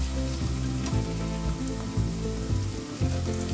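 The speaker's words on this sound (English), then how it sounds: "To this, add colored peppers" Onions and colored peppers sizzling and frying in a hot pan, a steady crackling hiss with soft clunks of the pan or stirring, close and continuous with no voices.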